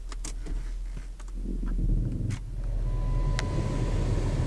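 A 2001 Dodge Stratus SE sedan, jump-started, idling with a low steady engine rumble, joined by a few clicks and taps and a brief whirring tone near the end, no talk.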